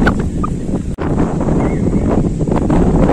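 Strong wind with rain buffets the microphone at a farmhouse in Furus village in a continuous loud rumble, with a brief dropout near the start.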